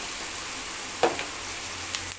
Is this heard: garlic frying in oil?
yes